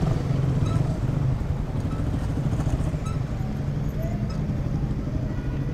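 Cars and motorcycles pass through a police checkpoint in GMA, Cavite, a steady rumble of traffic nearby with no single vehicle standing out.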